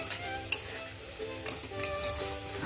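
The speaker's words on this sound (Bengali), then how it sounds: "ভালো করে নাড়াচাড়া করে দেবো।" Cumin spice mix being stirred in a sizzling pan with bottle gourd, a steady soft fry and hiss broken by three light spatula scrapes and taps.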